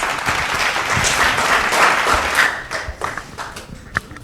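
An audience at a kids' quiz show quarter final applauds the contestants, steady loud clapping that thins out and fades near the end.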